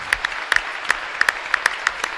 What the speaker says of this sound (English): a standing ovation is broken out here